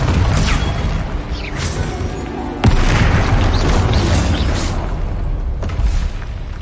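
A Confringo blasting spell explodes in Hogwarts Legacy, a loud booming burst with a sharp crack partway through over rumbling, crashing game sound that stays dense and heavy throughout.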